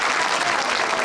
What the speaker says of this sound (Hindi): तालियां इसके लिए